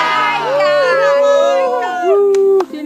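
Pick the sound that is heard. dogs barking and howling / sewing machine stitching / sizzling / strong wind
dogs barking and howling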